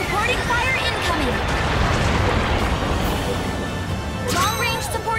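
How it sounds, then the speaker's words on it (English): Long-range supporting fire barrage in Mobile Suit Gundam Battle Operation 2: a dense, continuous rumble of explosions and booms that fills the whole stretch, with sharper bursts near the end and a game voice announcing over it. "Long range supporting fire incoming."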